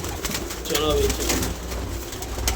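Pigeons cooing near at hand, soft throaty warbling calls that run through the moment while someone talks over them.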